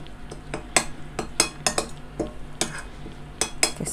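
A spoon mixes ginger, garlic and green chili paste in a bowl for a tandoori masala black pomfret fry, producing quick, irregular metallic clinks and taps close by.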